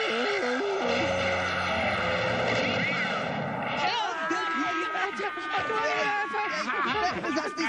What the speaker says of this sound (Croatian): Moram požuriti i pomoći im prije nego što se onaj ratni mlažnjak ponovo ne pokrene i zadre u kuću